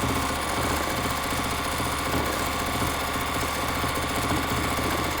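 A sewing machine stitches free-motion quilted pebbles, giving a steady, fast mechanical hum with dense rapid needle clatter, close and continuous throughout.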